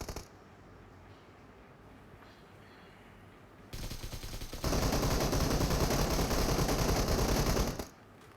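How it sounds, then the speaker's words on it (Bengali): AKM rifle fire in the mobile battle royale game Battlegrounds Mobile India, starting as quiet background rattling and then swelling into a loud, dense, continuous burst of automatic shots that ends abruptly near the finish. "জোডেক সৌম্য এখানে একেএম দিয়ে নকডাউন করলো।"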